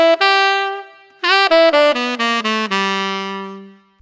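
A major blues scale played one note at a time, each note ringing with clean harmonic tone in a steady sequence from a first held note through six more, the final note sustaining and fading alone.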